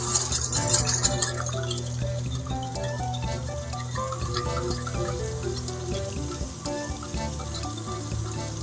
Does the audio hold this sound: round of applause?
no